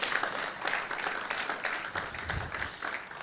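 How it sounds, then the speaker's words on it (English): A conference audience in Berlin gives a dense round of applause, steady and fairly even throughout, with a crowd of hands clapping at moderate distance. "Can we have a round of applause?"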